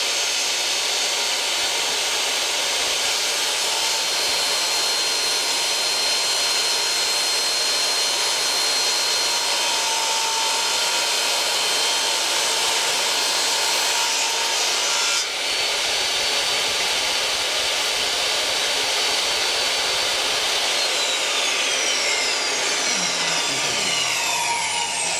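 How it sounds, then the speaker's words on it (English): A power saw slicing thin veneer from a wooden board runs as one steady, loud, hissing whine for about twenty-five seconds without a break, with no voices. "cutting my own veneer"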